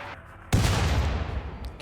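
Gunfire from a RimWorld colony battle bursts in abruptly and stays dense and loud, a heavy rumbling volley that rolls on without pause after a quiet lead-in.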